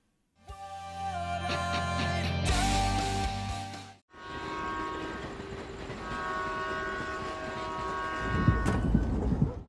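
A train rolls along steadily in a TV drama scene, its loud rumble broken by a sudden cut, then a long horn tone and rail noise continue, with no talk.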